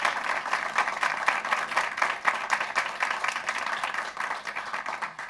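Audience applause at a school board business meeting: a dense, steady clatter of many hands clapping that carries through the whole stretch at a moderate level, with no one speaking over it.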